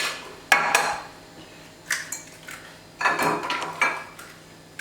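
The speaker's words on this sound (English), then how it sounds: "let's crack the eggs and get started" Eggs cracked against a bowl rim for Lebkuchen gingerbread dough, giving a few sharp, close knocks and clicks with brief pauses between, on a quiet kitchen counter with no talking.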